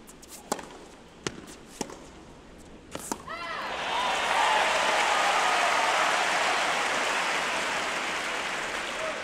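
A US Open women's tennis crowd bursts into sustained applause and cheering after a few sharp ball strikes and bounces, the clapping swelling loud and full, then slowly easing.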